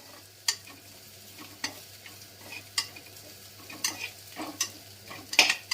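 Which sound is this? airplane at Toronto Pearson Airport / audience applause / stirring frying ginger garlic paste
stirring frying ginger garlic paste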